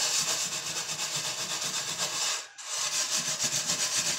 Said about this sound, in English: just got a couple of really stubborn spots to get scraped off here